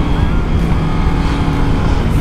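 A KTM 1290 Super Adventure motorcycle accelerating, a steady loud engine drone mixed with heavy wind rush at the rider's helmet, continuous and close throughout.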